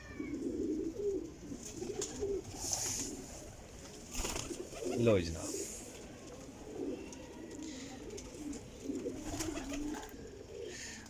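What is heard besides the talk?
golden pigeons cooing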